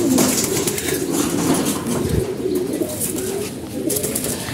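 Racing pigeons coo steadily up close in a loft, with low rolling calls repeating throughout, some wing rustle and overlapping birds, no one speaking.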